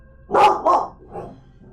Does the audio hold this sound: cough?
no